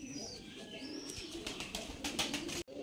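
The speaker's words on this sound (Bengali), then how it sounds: "আর আরেক জোড়া যে দেখতে পাচ্ছেন সামনে কবুতর, এক জোড়া কবুতর" A pair of caged pilong-type pigeons coo softly in low, murmuring calls, with some light clatter and faint background noise around them.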